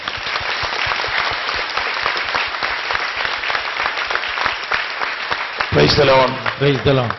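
A congregation at a Christian retreat claps hands together in thanks, a dense, sustained wash of applause that fills the space before a voice begins speaking near the end.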